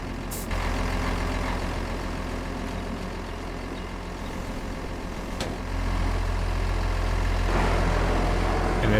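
A truck in Farming Simulator 25 idles steadily while its trailer is dropped, with a sharp air-brake hiss early on, a click midway and the engine note rising and growing louder toward the end.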